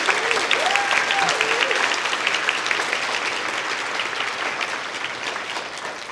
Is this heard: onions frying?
no